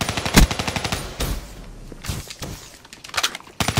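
Gunfire in the Black Ops 3 video game, with a shotgun blast among rapid repeated shots, loud and close at the start and then thinning into scattered bursts.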